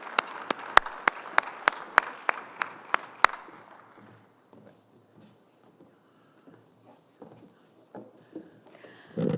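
Audience applause at an insurance symposium panel on driverless cars: about a dozen crisp, evenly spaced claps ring out, then fade to quiet shuffling and faint movement.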